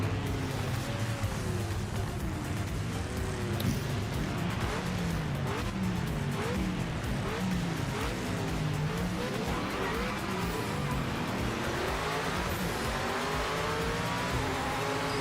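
Race car engines in the Project Motor Racing game wail continuously with rising and falling revs and gear shifts, loud and steady throughout, with bursts of tire squeal and no talk.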